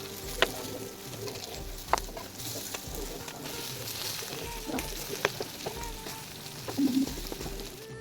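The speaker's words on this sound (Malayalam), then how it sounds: "മീനൊക്കെ ഒരു സൈഡ് നന്നായി വെന്ത് വന്നിട്ടുണ്ട്. അപ്പം മറുഭാഗം തിരിച്ചിടാം." Fish fries in a pan with a steady, close sizzle and crackle, dotted with occasional sharp pops and a short louder spatter near the end.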